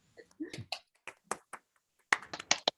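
Scattered claps from attendees at an online awards ceremony, heard as a few sharp, uneven hand claps over a video call, sparse and fairly faint at first, then a quicker cluster near the end, with a brief voice early on.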